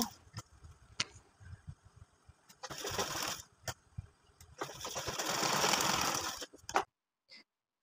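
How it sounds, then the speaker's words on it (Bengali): A sewing machine stitches a baby frock in two bursts, a short run followed by a longer, louder one, with quiet handling clicks between and a brief tap after it stops. "এবার উল্টো সাইডেও এইভাবে ভাঁজ করে আমি সেলাইটা করে বসিয়ে নিব"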